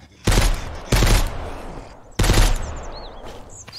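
Three sharp gunshots in the survival game Mist Survival, loud and close, spaced unevenly with short ringing decays between them, no talk over them.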